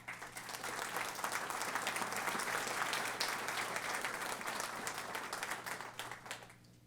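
Sustained audience applause fills a commission meeting room, steady and dense for several seconds before tapering off near the end.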